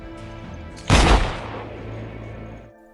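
A single loud gunshot in an action film, a sharp blast followed by a fading rumble over a steady background tone.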